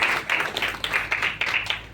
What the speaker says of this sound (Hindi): एक बार ताली बजाकर उनका स्वागत करिए।